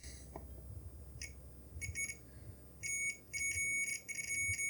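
Continuity beeps from a multimeter probing game cartridge contacts, several short high tones in bursts, some sustained, over a quiet background.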